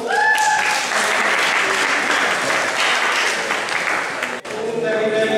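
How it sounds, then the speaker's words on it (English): A full round of audience applause fills a lively talk on how the stock market works, loud and sustained for several seconds, with a voice heard briefly at the start and again as the clapping ends. "Give me a round of applause."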